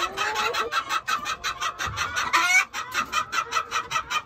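A flock of chickens clucks loudly and continuously, overlapping calls in a quick repeating rhythm, close by with no talking.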